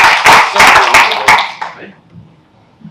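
A short burst of hand clapping from a small group, loud for about a second and a half before fading into quiet room noise.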